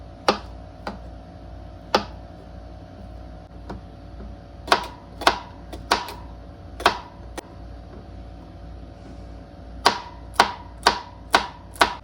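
Frozen avocado halves being cut on a board, a series of sharp, crisp knife knocks, some single and some in quick runs of three or four, close and dry with no talking.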